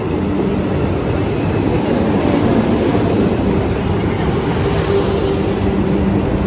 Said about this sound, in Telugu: ఇప్పుడైతే మేము వందే భారత్ ట్రైన్ ఎక్కబోతున్నాం